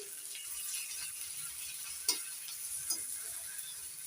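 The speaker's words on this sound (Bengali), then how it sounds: "রসুন বাটা দিয়ে নাড়িয়ে চড়ে নিলাম একটু" Garlic paste stirred into onions frying in a pan, giving a steady soft sizzle with a few light scrapes of a spatula, close and even throughout.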